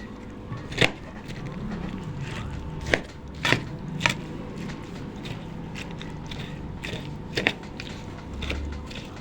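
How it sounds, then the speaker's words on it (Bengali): A knife chops cabbage, tomatoes and potatoes on a board, with sharp, irregular thuds spaced a second or two apart over a low background murmur. "এখন ছুরির সাহায্যে আমি এভাবে কেটে নিব।"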